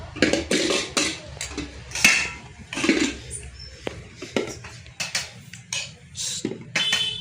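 A small child clatters a pressure cooker and kitchen utensils at home on a rainy day in Surat, giving repeated metallic clanks and knocks of uneven rhythm, close and fairly loud, with no talking.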